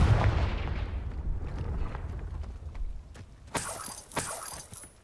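A Confringo fire spell cast in the video game Hogwarts Legacy, heard as sharp blasting bursts late in the clip over a rumbling game soundscape of footsteps and ambient noise.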